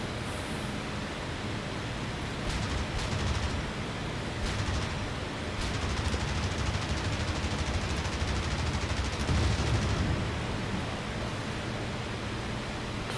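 Video game gunfire aimed at distant targets such as artillery and support vehicles: a steady noisy wash with scattered sharp shot bursts, moderately loud and continuous, with no talking.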